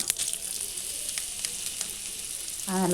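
Mustard seeds and curry leaves temper in hot coconut oil in a pan for sambar, giving a loud continuous sizzle broken by sharp, scattered popping crackles, close up.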